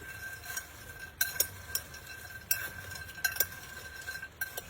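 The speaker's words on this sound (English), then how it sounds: "So I'm going to dump in a bag of croutons. I'm going to stir that up." Croutons being stirred into a salad in a bowl, giving soft rustling with a handful of sharp clinks and scrapes of a utensil against the dish, close and fairly quiet, with no talking.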